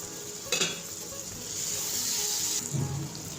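Pointed gourd sizzles in a hot pan while being stirred, with a sharp utensil scrape near the start. Steady frying hiss swells in the middle, followed by a few more clinks of the spatula. No one speaks.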